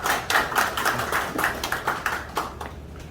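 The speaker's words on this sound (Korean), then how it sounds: "원장님을 힘찬 박수로 환영해 주시면 감사하겠습니다." Seminar audience clapping to welcome a speaker in a third-floor seminar room, a steady patter of many hands at moderate volume that thins out toward the end.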